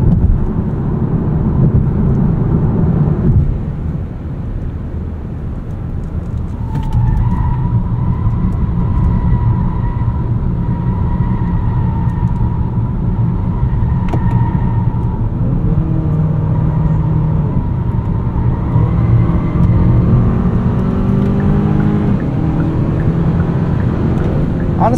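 A 2024 Hyundai Sonata N Line driving hard in sport mode through a corner, with a steady loud engine and road rumble throughout and a rising engine tone partway through, and no talking.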